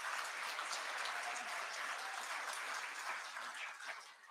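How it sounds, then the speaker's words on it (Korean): Steady applause from an audience at a church panel discussion fills the room, a dense, even clatter of many hands that fades slightly toward the end. "큰 박수로 격려해 주시기 바랍니다."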